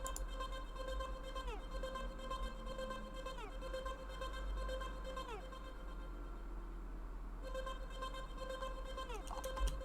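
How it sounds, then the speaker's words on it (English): Processed intro vocal in an electronic track, run through tape stop, reverb, delay and filter, with sustained sung tones that repeatedly dive downward in pitch over a steady low bed. "that's going through a tape stop, and it's also going through some reverb and delay, and it's got a love filter on it"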